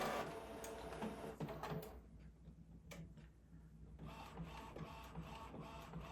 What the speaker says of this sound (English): The printer starts making all sorts of interesting noises.